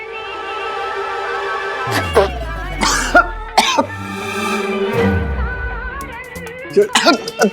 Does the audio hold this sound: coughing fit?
yes